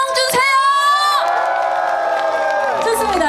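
A live audience at a trot singer's folk-song medley performance cheers and whoops loudly, with sustained crowd shouting and clapping filling the whole stretch.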